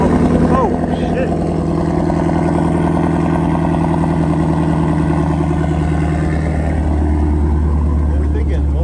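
A Ford Shelby GT350 on its first drive gives a loud, steady engine drone from inside the cabin, holding an even rumble throughout.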